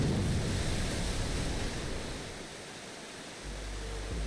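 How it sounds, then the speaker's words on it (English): Water rushing in through a shattered window in the game AI: The Somnium Files, a loud continuous roaring wash that eases slightly, then surges again near the end. "The window shattered. Water started pouring into the room."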